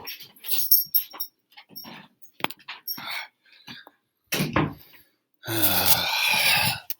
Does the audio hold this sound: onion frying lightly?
no